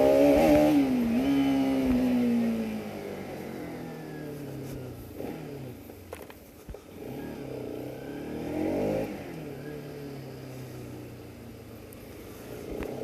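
Bajaj Pulsar RS 200 motorcycle on its stock exhaust, revving hard at first with a rising and falling engine pitch, then easing off and building again in a few shorter throttle blips, heard up close with no talk.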